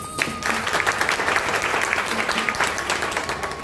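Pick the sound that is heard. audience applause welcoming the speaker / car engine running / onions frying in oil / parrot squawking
audience applause welcoming the speaker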